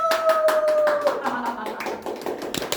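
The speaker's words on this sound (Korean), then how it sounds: "박수!" A small studio audience at a Korean talk show claps for a visiting political campaign chairman, a brief patter of scattered hand claps with a short tonal sound at the start and some voices in the room.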